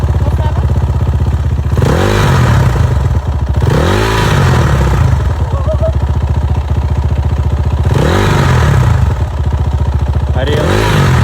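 A motorcycle engine revs hard in repeated bursts, each throttle blip rising and falling before settling back to a loud idle, with people talking nearby between the revs.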